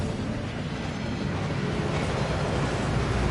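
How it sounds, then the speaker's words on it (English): A waterfall roars in Hogwarts Legacy, a steady, dense rush of falling water that holds loud and unbroken throughout with no voices over it. "That waterfall washes away all enchantments"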